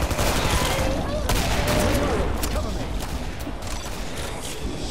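A Tommy gun fires continuously in the co-op video game Killing Floor. The dense, rapid gunfire goes on throughout and stays loud and close, mixed with other game noise.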